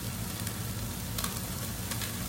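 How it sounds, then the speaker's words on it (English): Steady sizzling of onions and garlic frying in a hot pot for beef stew, a continuous crackling hiss with a few sharper pops, close and moderately loud. "we're going to dump that on in, and it should sizzle"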